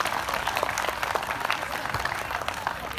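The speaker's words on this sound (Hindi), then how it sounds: "तालियां बनती है इसमें जोरदार" Audience applause at a Hindi poetry recital, a dense wash of many hands clapping steadily for the full length, fairly close and even in loudness, with no voice on top.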